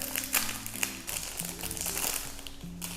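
Soft plastic crinkling and rustling of a small herbal tea bag packet being handled up close, intermittent over a low background hum.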